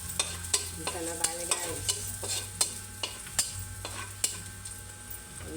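Garlic sautéing in a pan for menudo, with a steady sizzle and regular scraping strokes of a utensil against the pan, close and rhythmic; a voice speaks briefly over it.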